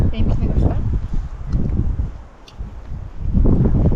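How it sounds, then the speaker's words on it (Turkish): Steady wind buffets the microphone at a highland campsite with low rumbling gusts that ease briefly midway, then surge again, fairly loud and close. "Rüzgar da bayağı var."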